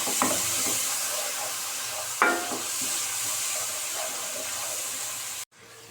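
Spice paste for prawn dopiaza sizzles and hisses as it fries and is stirred, with a couple of scraping utensil hits against the pan before the sound cuts off abruptly.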